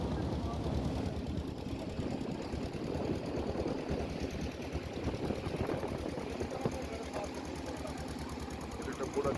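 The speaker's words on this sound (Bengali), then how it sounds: "এটা ডবল সিলিন্ডার বোট আছে" A two-cylinder boat engine near a ghat in the Sundarbans runs with a steady, rapid knocking chug, moderately loud and continuous, while people talk over it.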